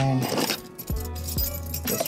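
A set of car keys for a BMW E38 jangles close by in short metallic clinks, with a low car-interior rumble underneath and two soft knocks.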